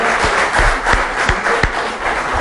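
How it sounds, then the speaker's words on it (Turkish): Applause from a studio audience on a Turkish television show, dense steady clapping with scattered louder individual claps, sustained for the whole stretch. "Bir alkışlayalım"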